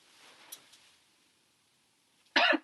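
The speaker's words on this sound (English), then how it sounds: "I obviously have a really bad cough" A person with a bad cough, heard as one harsh, loud cough close by near the end after a stretch of near silence and faint movement.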